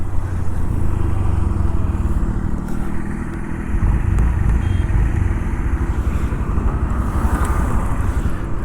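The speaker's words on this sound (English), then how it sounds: "let's see how the all new Honda Activa 125 performs on the road. The first thing to do is take a U-turn." Honda Activa 125 scooter being ridden on the road and swinging through a U-turn, giving a steady close engine drone with heavy wind buffeting on the mic throughout, briefly dipping midway.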